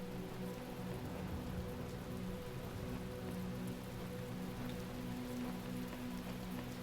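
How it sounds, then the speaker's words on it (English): Steady rainfall in the video game The Talos Principle, an even wash of drops pattering on surfaces without pause and with no voices over it. "Oh no, it's getting rainier again."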